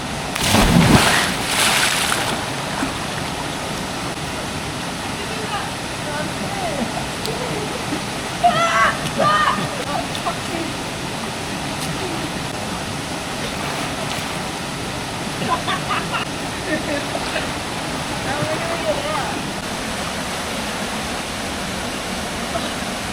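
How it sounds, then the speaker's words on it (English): A cold waterfall rushes as a loud, steady broadband roar nearby, filling the whole stretch, with a brief louder burst at the start and faint voices now and then underneath. "Waterfall!"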